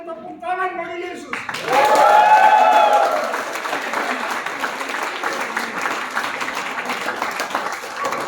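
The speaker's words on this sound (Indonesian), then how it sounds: "Semua dan tepuk tangan bagi Yesus." A church congregation at a Sunday service at a theology college breaks into loud, lively applause right after a voice, building quickly, with cheers and whoops in the first seconds, then settling into steady clapping to the end.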